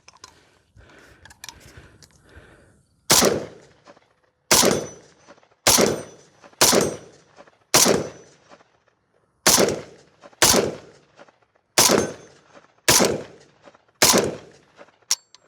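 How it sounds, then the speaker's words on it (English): A Galil rifle empties the rest of its magazine at a 50-yard target outdoors: about ten sharp, loud single shots spaced roughly a second apart, each with a short decaying echo. "So let's just like empty the rest of this mag up at 50 and just call it there."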